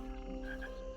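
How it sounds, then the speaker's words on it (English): Frogs croak in a steady ambient chorus inside the Tales Tavern video game, layered over a continuous musical drone with brief higher chirps partway through. "I like the frogs and stuff chirping."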